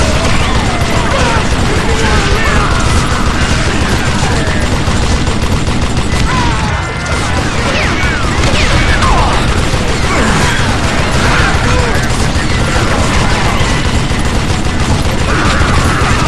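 Dense, continuous gunfire fills a Call of Juarez Gunslinger shootout, with many overlapping shots and rattling bursts. It stays loud and steady throughout, with a brief dip near the middle.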